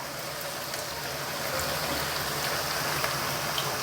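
Tamarind water being poured into a pan while cooking a dried-fish curry, a continuous watery trickle and splash heard alone for a few seconds.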